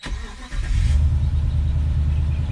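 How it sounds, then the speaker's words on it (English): A 2012 Ram 1500 pickup truck engine cranks briefly and catches, then settles into a steady, loud low idle rumble close by. "we're going to go ahead and just start the truck here real quick just to show you"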